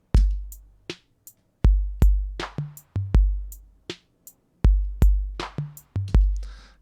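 Drum machine beat with a slightly hip hop feel plays back from a production session: punchy booming kicks and crisp snare and hat hits in a steady, sparse pattern, dry and upfront.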